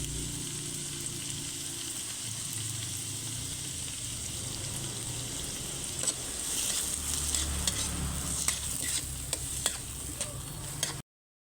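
Peas, green beans and red bell pepper stir-frying with oyster sauce in a pan, a steady soft sizzle with spatula scrapes and clicks growing busier partway through, close and alone without talk.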